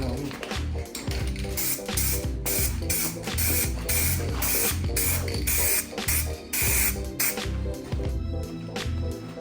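Aerosol spray paint hissing steadily as a light metallic coat goes onto Origin car spoilers for a Nissan R34 outdoors, a loud, continuous spray broken by brief pauses between passes.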